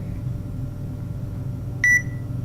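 A single short, bright electronic beep from a phone app's barcode scanner reading a sauce bottle, sounding clearly over a low steady indoor hum.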